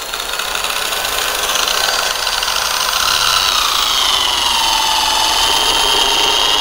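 A cheap JLD electric polishing machine runs steadily at speed 2 with a loud, continuous whirring hum and a slight pitch drift, close by, with no talk.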